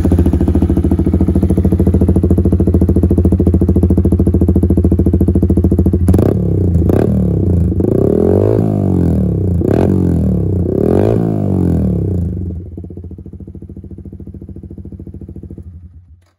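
A Yamaha R15 V3 motorcycle fitted with an SC Project exhaust idles loudly up close, then snaps through several quick, sharp throttle blips before settling back to a burbling idle and shutting off.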